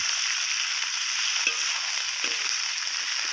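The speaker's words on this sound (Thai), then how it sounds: "ผัดแบบนี้เลยค่ะ" Vegetables and garlic stir-fry in a pan over a wood-fired stove, a loud bright continuous sizzle close up, with two soft scraping strokes of the spatula.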